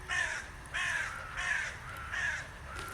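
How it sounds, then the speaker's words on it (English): A crow caws four times in a steady, evenly spaced series, fairly close and loud over a faint background by a still stream in summer. "The birds are really loud here."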